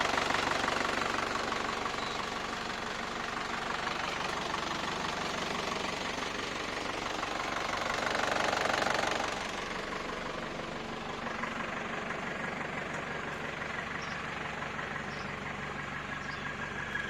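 A diesel engine with a stock 2500 inline injection pump runs with a turbo whistle, a steady close drone with a hissing rise that swells around the middle before settling back, no voices.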